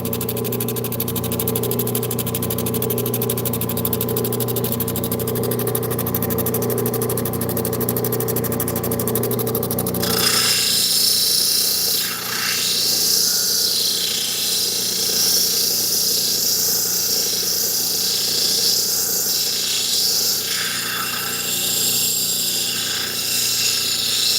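An 80 grit lapidary grinding wheel shapes a stone. A loud, steady motor whine mixes with harsh grinding that turns rougher and more broadband midway through, and no one speaks.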